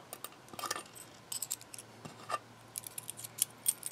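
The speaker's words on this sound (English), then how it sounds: "I don't care if these keys are rubbing against each other" Metal keys clustered on a KeySmart Premium keyholder clink and rub against each other in a quiet room, giving a string of faint, irregular jingling taps and brief scrapes with no talking.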